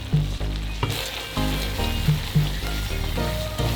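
Ricotta is stirred into a tomato sauce in a pan while making pasta, giving a steady sizzle with soft, intermittent scraping strokes over a continuous musical background.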